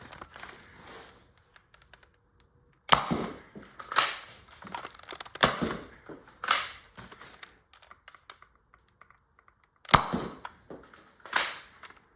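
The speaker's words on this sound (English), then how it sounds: "All right, got it all loaded up with some Adventure Force waffles there. Let's see how it fires." An X-Shot Reflex 6 toy blaster fires Adventure Force waffle darts in a series of sharp plastic snaps and clacks, about eight shots spaced irregularly with quiet handling noise between, up close.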